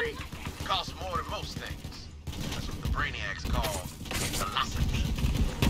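Bursts of gunfire and mechanical clatter from the video game Borderlands 3 fire in rapid volleys, mixed with game voices and effects, while someone talks over the action.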